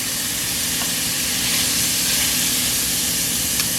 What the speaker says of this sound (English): You actually want to saute your rice.